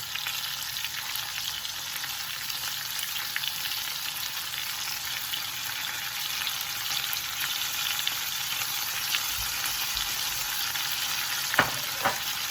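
Glazed spicy Korean skirt steak cooking on a hot surface, a loud, dense, continuous sizzle heard close up, with a couple of faint scrapes near the end and no speech.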